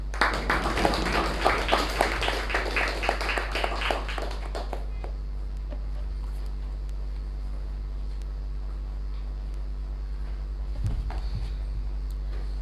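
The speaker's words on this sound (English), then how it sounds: "Please put together a big round of applause for our VP membership, Toastmaster Sanjana Prabhanjan" Toastmasters club members applaud their membership vice president at a club meeting, about five seconds of fairly faint, uneven clapping over a steady electrical hum, then only the hum with a faint stir.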